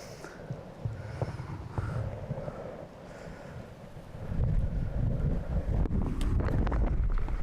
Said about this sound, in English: See a real strong downstream wind